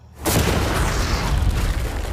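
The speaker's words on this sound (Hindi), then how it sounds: "वो धमाका टैंक वाले से बहुत बड़ा होगा" A large explosion blowing up a container, a sudden loud boom after a brief quiet moment, followed by a heavy, rumbling roar that sustains without fading.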